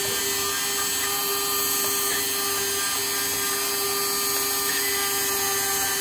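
An MSC engraver traces letters onto a name tag with a steady, high, whining motor hum that runs continuously and close, with faint scratchy tool contact underneath.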